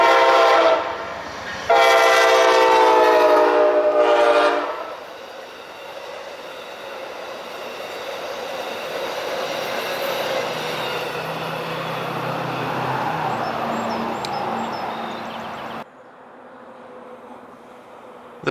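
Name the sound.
Amtrak eastbound Pennsylvanian passenger train passing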